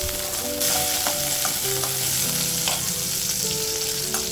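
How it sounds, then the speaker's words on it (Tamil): Onions and tamarind sautéing in oil give a loud, close sizzle with a few scraping stir strokes, over a steady hum and faint background tones, with no speech. "சும்மா எண்ணெயில் ஒரு வதங்கி வந்தால் போதும்"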